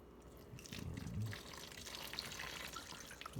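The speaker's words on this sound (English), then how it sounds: "I'm just going to end up pouring these 8 cups in here" Water pours steadily and fairly quietly through a funnel into a container, with a soft gurgling splash early on.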